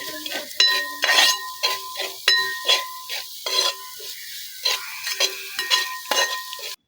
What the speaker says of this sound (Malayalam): ഇതിലേക്ക് ആവശ്യത്തിനുള്ള ഉപ്പും കൂടി ചേർത്ത് നന്നായിട്ട് ഇളക്കി കൊടുക്കാം.